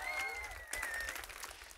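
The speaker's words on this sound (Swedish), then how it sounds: "En stor applåd." Audience applause at a March for Science rally in Stockholm, a brief burst of steady clapping that fades slightly toward the end.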